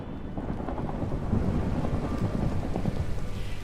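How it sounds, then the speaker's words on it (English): Steady rain with low rumbling thunder in a Minecraft world with a horse stable build, a continuous dense wash of rainfall holding even and fairly loud throughout, with no talking. "I definitely want to leave the rain on this time because I'm gonna be inside."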